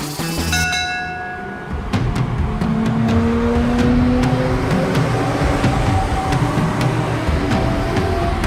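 A cartoon train rolls through a railway station with a steady rumble of rolling wheels. A short whistle tone sounds near the start, and repeated clacks continue throughout.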